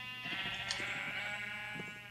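Sheep in the Minecraft video game bleat in several short, nasal calls spread through a steady background hum, fairly close and moderately loud.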